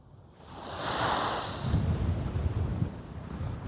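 Strong wind gusts roar across the microphone at the Baltic Hub on the Polish Baltic coast, with a steady rush of surf-like noise, loud and continuous with no voices.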